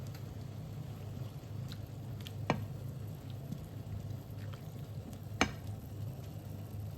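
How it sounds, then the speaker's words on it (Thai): Fresh mushrooms blanched in a pot of boiling water: a faint, steady low bubbling simmer runs throughout, broken by two sharp utensil clinks. "จะลวกเห็ดก่อนนะคะแป๊บหนึ่ง"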